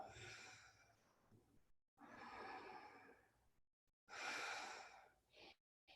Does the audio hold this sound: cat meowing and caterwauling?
no